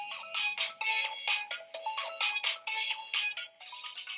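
A telephone ringtone plays loudly and close, a bright electronic melody of repeated short bursts with brief gaps, sounding alone for about four seconds.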